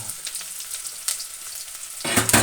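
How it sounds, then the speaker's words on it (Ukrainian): Chopped onion sizzles in hot oil in a pan, a soft steady hiss that swells into a loud, close burst of crackling near the end, as if just stirred or freshly added. "Ми додаємо цибульку і підсмажуємо до золотава цибульку. Ой, як скворче."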